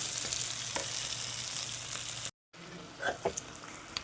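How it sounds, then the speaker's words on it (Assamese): Pieces of broiler chicken frying with spices in a pan over low gas with no water added, a steady close sizzle with a brief dropout and a few scraping stirs near the end. "গেছটো একদম কমাই ল'ম আৰু এনেকৈ পানী নিদিয়াকৈ ভাজি থাকিম"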